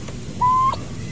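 A newly hatched turkey chick gives one clear, sustained high peep, close and alone over a faint background hum.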